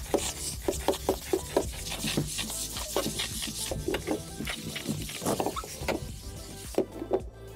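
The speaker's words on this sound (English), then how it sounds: "we'll rub it all over here and completely clean this window" Bissell Steam Shot nozzle rubbed back and forth over a window pane, a close, quiet series of rapid squeaky scrubbing strokes in an uneven rhythm, with no talking.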